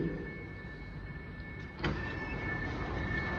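Melbourne Metro train doors sliding open on the platform at Anzac Station, a short mechanical whoosh and thud near the middle of the clip, over steady station hum and a constant high electrical whine.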